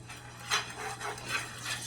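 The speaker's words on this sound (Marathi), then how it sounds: "तेल पसरवून घेते त्याच्यानंतर धिरडे असे पसरवून घ्यायचे" Oil is spread across a hot tava before making fasting dhirde, giving faint soft scraping and brushing strokes in a quiet kitchen, a few gentle swipes at close range.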